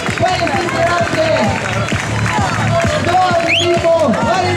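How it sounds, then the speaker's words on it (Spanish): Applause and cheering from a crowd greet a runner finishing the 2015 Arenteiro charity race in O Carballiño, with steady clapping under busy crowd chatter and a loud announcer voice nearby. "Aplausos. Para este integrante."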